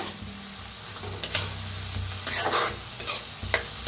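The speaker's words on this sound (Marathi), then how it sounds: "आता डाळीला बी का नाही भाजून घेऊया कांद्याबरोबर" Soaked moth bean dal sizzles with onions in a hot pan while being stirred, with steady frying hiss, low pan rumble and several sharp scraping bursts of the spoon, close and without talk.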